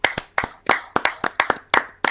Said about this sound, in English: And that's the only time I'm ever going to clap a Chelsea fan